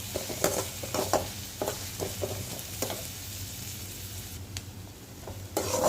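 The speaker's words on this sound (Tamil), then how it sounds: "ஒரு 3 கொத்து கருவேப்பிலை வந்து நம்ம சேர்த்துக்கலாம் ஃப்ளேவருக்காக. அதையும் இந்த எண்ணெயோடவே நல்லா வதக்கிக்கலாம்." Curry leaves sautéing in hot oil for a green channa gravy, a steady soft sizzle with scattered crackles and occasional stirring scrapes, close and moderately quiet with no talking.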